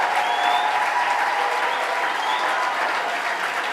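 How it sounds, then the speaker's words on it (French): Thunderous applause from a church congregation for the king, a dense, steady wall of clapping filling the room, with faint voices mixed beneath the roar. "vamos a darle el más grande de los aplausos"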